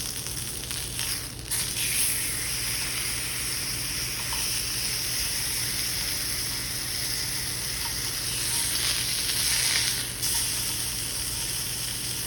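Chicken breast sautés in a hot pan after the flame has been turned down, giving a steady, close sizzle and crackle that runs unbroken with no voices.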